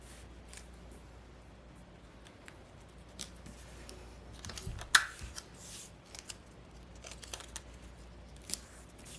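Scissors snip through paper while a sewing pattern is cut out, giving quiet, scattered cuts and rustles at an irregular pace, close by.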